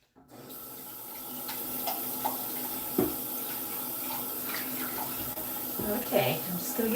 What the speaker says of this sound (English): I'm just going to give your water bowl a quick wash.